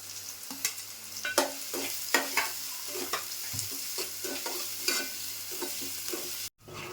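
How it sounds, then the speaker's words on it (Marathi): Onion frying in a pan until soft for a Marathi suran (elephant foot yam) sabzi, a steady close sizzle broken by repeated scraping stirs with a spoon, no talk. "आता कांदा टाकूया कांदा मऊ होईपर्यंत भाजून घ्यायचा"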